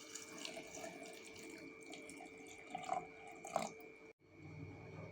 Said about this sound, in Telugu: కావలసినంత చిల్డ్ వాటర్ పోసుకుందాం